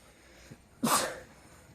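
One sharp sneeze bursts out abruptly after a brief faint inhale, loud and close, then fades quickly into quiet room tone.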